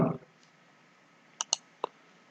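A computer mouse clicks three times in quick succession, sharp and close, over faint steady background hiss after a brief burst of voice at the very start.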